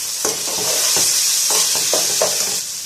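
Spices being stirred into okra frying in a pan for achari bhindi, with a steady hiss of sizzling oil and repeated scraping strokes of the spoon, close and continuous with no voices.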